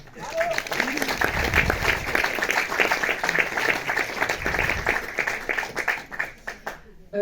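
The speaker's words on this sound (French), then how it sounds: "Merci d'applaudir l'Institut et le NFI," Audience applause at a film institute's presentation of a Hungarian film screening: a dense, sustained patter of many hands, with a voice speaking over it throughout before it thins out at the end.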